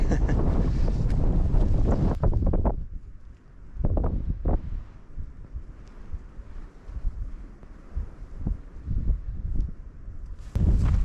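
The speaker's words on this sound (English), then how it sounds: "Proper windy at the top, but then I think Brown Knoll pretty much always is." Strong gusts buffet the microphone on an exposed Peak District hilltop at Brown Knoll, roaring loudly at the start and end with a quieter, fluttering stretch between.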